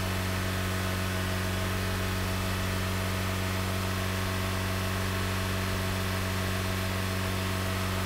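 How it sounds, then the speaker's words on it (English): A Honda Civic engine idling with its radiator fan running, a constant droning hum and steady whooshing airflow, unbroken throughout. "my fan just came on again"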